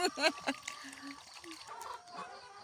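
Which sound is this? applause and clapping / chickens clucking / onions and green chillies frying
chickens clucking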